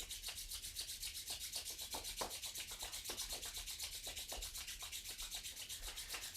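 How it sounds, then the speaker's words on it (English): Palms rubbed together briskly during a yoga practice: a rapid, even swishing friction rhythm, close and soft, continuing steadily with no talk. "And then rubbing the palms together."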